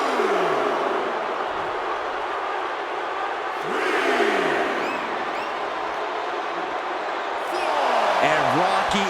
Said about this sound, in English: And Rocky is revving this crowd up